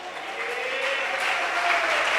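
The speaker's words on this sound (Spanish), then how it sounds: "¿Cuántos tienen un aplauso para el Señor?" A church congregation claps during a Spanish-language sermon at a Pentecostal service, a building wash of many hands applauding, fairly loud and steady with no talk over it.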